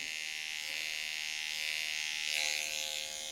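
An electric trimmer buzzes steadily as it runs along a man's eyebrows during barber grooming, close and continuous with a high whine that brightens briefly near the end, and no talking.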